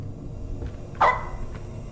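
A dog in the horror video game Supernatural gives a single sharp bark midway, standing out clearly over a low, rumbling game ambience.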